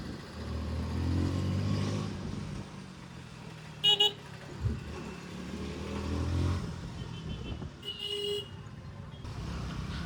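Low engine drone and road rumble from a 2025 KTM Duke 160 being ridden, steady and close throughout with wind noise, plus two short bright horn-like toots around the middle and near the end.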